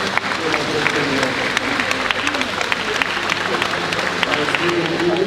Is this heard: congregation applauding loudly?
yes